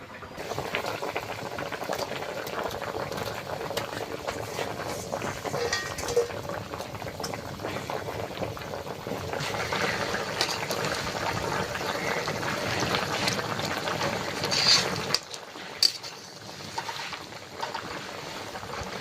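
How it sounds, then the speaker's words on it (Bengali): A pot of fish curry bubbles and boils steadily on the stove, a continuous close wet simmering with occasional clinks of utensils against the pot. "তরকারি ফুটে উঠেছে"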